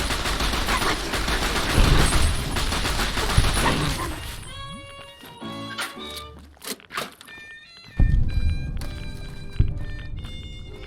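A dog gun fires repeatedly in Fallout: New Vegas using the reused 9mm pistol gunshot sound, sharp cracks in uneven bursts amid game music and background noise.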